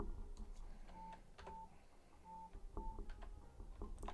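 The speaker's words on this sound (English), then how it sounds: "my phone just freaked out" A phone gives off a rapid string of short electronic notification beeps and tones, faint and fairly close, against quiet room noise with no speech.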